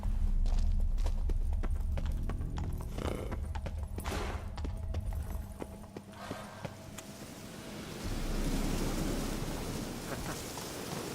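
Hooves of a dark horse clip-clop at a steady walk in The Witcher 3, over a low rumbling game backdrop with rain and thunder-like ambience, fairly loud throughout.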